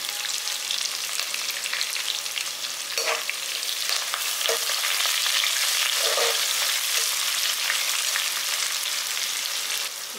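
Vathal, onion and curry leaves frying in a pan, a loud dense continuous sizzle like steady rain with faint occasional stirring clicks, no voices.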